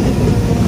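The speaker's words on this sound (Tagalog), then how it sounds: "andito na yung tren na aming sasakyan papuntang Toyohashi." Train pulling into a Japanese railway station bound for Toyohashi, a steady loud low rumble with broadband rolling noise throughout, no voices.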